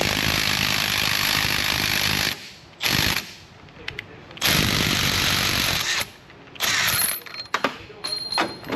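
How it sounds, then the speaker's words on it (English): A spare bolt is power-driven into a car's threaded hole as a makeshift thread cutter, giving loud rattling impact-tool bursts of a few seconds each, separated by short pauses and clicks, with no talk. "Let's use the bolt that we know we're not going to use as our thread cutter bolt."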